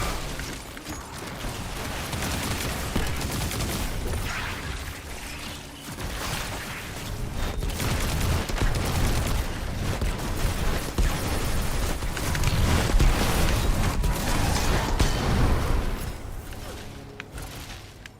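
Video game gunfire aimed at targets, a long stretch of rapid mechanical shots, pops and dull booms that swell and fade, with some voices mixed in.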